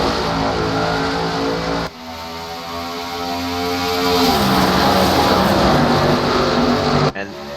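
Simulated race car exhausts from a NASCAR video game at the Brickyard green flag, a loud droning chorus of engines rising in pitch as the pack accelerates, steady and continuous with a sharp cut near the end.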